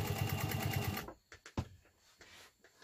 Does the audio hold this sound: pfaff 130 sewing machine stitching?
yes